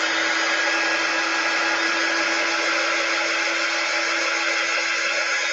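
A heat tool blows steadily at close range, drying chalk paste on a silk screen: a loud, continuous whirring hiss with no breaks and no talking.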